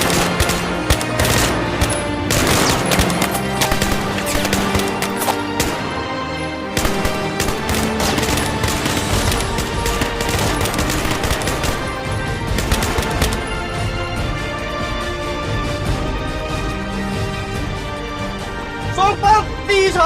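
Sustained bursts of gunfire at a military shooting competition, loud and close, with rapid repeated shots crowding together almost continuously, under music and occasional voices.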